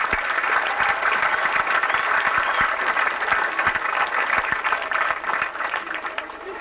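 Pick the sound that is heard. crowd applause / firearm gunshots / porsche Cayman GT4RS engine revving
crowd applause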